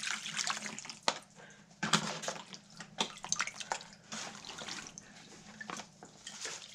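Water splashes and pours in a tub as Thomas 907 pay dirt gets wetted down, with irregular sloshing bursts and brief spikes at close range and no talking.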